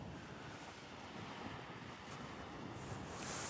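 Steady rushing water pouring from a lake outlet, continuous and broadband with a constant hiss and no voices.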